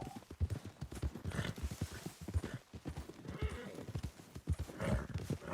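Rapid hoofbeats clatter at a gallop while a horse whinnies over them, busy and close, from a horse-riding video game.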